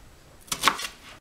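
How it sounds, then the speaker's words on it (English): A knife chopping a small yellow onion on a board for split pea soup, heard as two or three close, crisp cuts bunched in the middle after a quiet start. "I'm just chopping this onion up to put in the soup"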